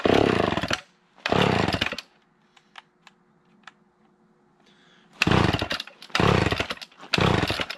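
Vintage chainsaw engine bogging, firing in short, loud, ragged bursts that die away between them, leaving quiet gaps with faint clicks; close and uneven.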